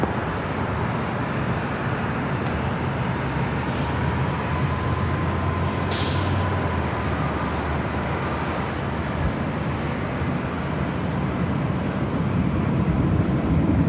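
A Southwest Airlines Boeing 737-800 arriving from Dallas Love Field lands at LAX, its steady broadband jet roar filling the whole stretch at constant loudness with a faint whine above.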